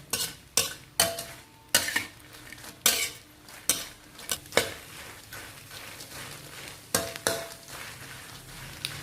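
Chillies stirred in oil in a pan over medium heat, with repeated clanks of a utensil against the pan at an uneven rhythm over a faint background sizzle, close and moderately loud, no talking.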